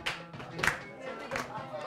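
Students in a school classroom clap a Middle Eastern rhythm, with a few sharp, fairly close claps landing in a counted pattern while a voice speaks over them.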